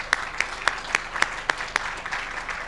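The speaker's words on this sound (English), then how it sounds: "So a round of applause to Andrew." A round of applause at an evening tech event, heard as a steady series of distinct, evenly spaced claps over a soft crowd wash, moderately loud and fairly close.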